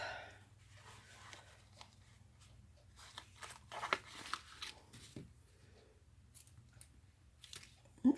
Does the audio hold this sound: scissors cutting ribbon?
yes